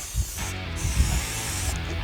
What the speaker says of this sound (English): So I'm gonna start spraying in here and here.